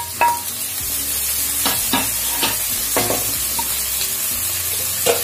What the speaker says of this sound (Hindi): मैंने शिमला मिर्च डाल के इसको हल्का हल्का हिला लिया है